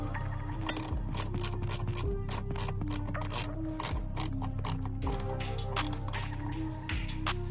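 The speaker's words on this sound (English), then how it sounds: "So I got the 4mm hex bolt right here. So I'm just gonna tighten it." A 4mm hex bolt is tightened on the shifter of a 10th-gen Honda Civic Type R (FK8), a close, rapid clicking ratchet with repeated gear-like ticks and short pauses between strokes.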